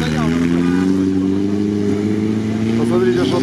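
An off-road Nissan Patrol fitted with a Skyline engine revs steadily at a trophy competition, a loud continuous drone with a voice talking over it.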